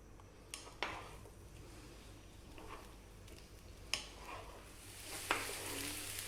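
Carrots tossed in a pan over medium heat give a quiet, steady sizzle broken by a few sharp clicks and shuffles as the pan and pieces are moved, with no voices.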